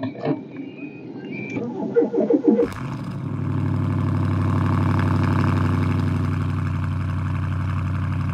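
A large V8 engine idles with a steady, deep rumble after a brief burst of clattering and handling noise; close and fairly loud.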